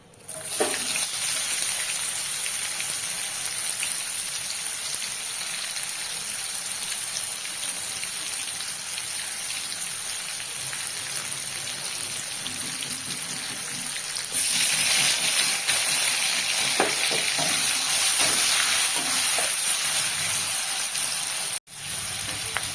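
Onions fry in hot oil, making a dense, loud, continuous sizzle that swells louder partway through and briefly cuts out near the end, with no talking.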